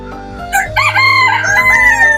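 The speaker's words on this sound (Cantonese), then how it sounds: "呢度係雞仔，哇！ 呢度係菜園雞啊" A free-range rooster crows once loudly and close by, a drawn-out cock-a-doodle-doo call over a faint background.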